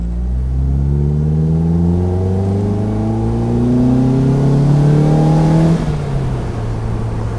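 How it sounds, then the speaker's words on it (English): A naturally aspirated Morgan Plus 4 car engine revs up steadily, its pitch climbing for several seconds before the throttle lifts and it drops back to a lower hum. No voices. "Being a naturally aspirated engine, to get the best from it, you really do have to rev it out."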